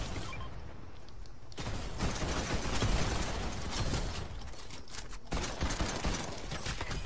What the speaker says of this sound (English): Careful, somebody's shooting at you.